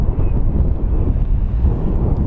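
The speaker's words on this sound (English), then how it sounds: "It is windy, man." Strong gusty wind buffets the microphone at an RC airplane flying field, a loud, rumbling low roar that swells and dips steadily throughout with no voices.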